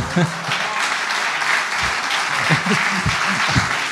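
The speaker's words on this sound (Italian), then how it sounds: "l'applauso mi mette un po' in difficoltà" Steady, full applause from a live audience at an Italian talk show, a continuous clapping wash with a few louder claps near the front, plus brief voices and laughter underneath.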